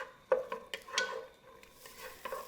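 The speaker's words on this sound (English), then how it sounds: "I've sauteed the onions till they're translucent" Onions sautéing in a pot, with a spoon stirring and scraping against the pot in a few quick, close knocks over a faint sizzle.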